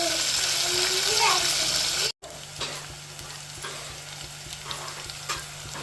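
Curry leaves fry in hot oil in a pan, a steady loud sizzle broken by a brief cut of silence, then continuing more softly with light stirring scrapes.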